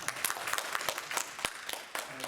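Church congregation applauding during a Sunday service at a Korean Presbyterian church, a moderate wash of many hands with a few sharper individual claps, fairly steady and somewhat distant.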